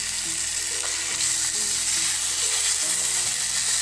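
Tomato puree and masala frying with mutton in a pan for curry, a loud steady sizzle with soft stirring scrapes throughout, close up and without speech.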